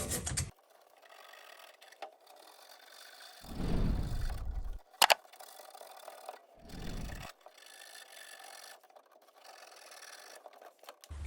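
Plumber's sandpaper rubbing mineral deposits off the brass stem of a main water shutoff valve, heard as a few separate short rasping scrapes with quiet pauses between them, close by.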